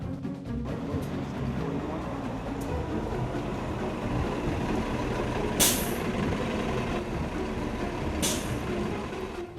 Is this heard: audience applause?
no